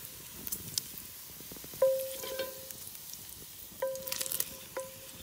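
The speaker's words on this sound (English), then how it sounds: "Right, browning the bacon." Bacon browning in a potjie pot over a wood fire, a moderate sizzle with scraping stirs and a few metallic rings from the pot, close and without speech.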